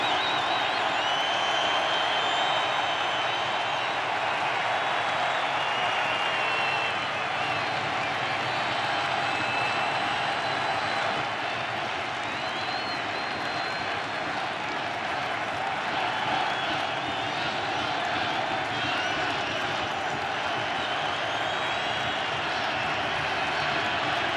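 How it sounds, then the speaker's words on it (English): Crowd at a 2016 World Series baseball game between the Cubs and Indians rising with sustained cheering and applause, a continuous roar that holds steady throughout while announcer commentary runs over it. "now the crowd to its feet."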